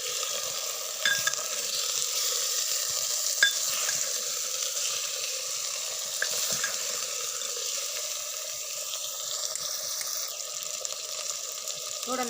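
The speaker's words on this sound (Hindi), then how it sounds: "अब चिकन डाल रहे हैं। चिकन को अच्छी तरह पका लेंगे।" Chicken pieces fry in a pan for a home chicken recipe, giving a steady, moderately loud sizzle throughout with a few small clinks and stirring scrapes, no voices over it.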